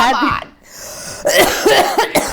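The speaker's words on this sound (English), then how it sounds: "You can't do that with a chest cough." A single harsh cough breaks into speech, followed by a short pause before a voice talks again.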